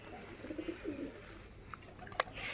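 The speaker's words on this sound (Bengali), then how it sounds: "ওই যে দেশি কবুতর দাওড়াদাওড়ি করতেছে এক জোড়া।" A pair of domestic pigeons coos softly in a low, rolling series in the first half, fairly faint against quiet room noise, followed by a sharp brief click.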